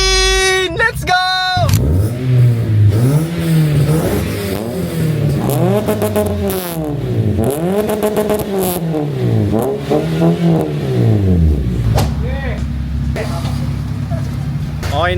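Car engine fitted with a newly installed JD Mufflers full exhaust revs hard in repeated rising and falling pulls, loud and close, with excited voices shouting over the start and between revs.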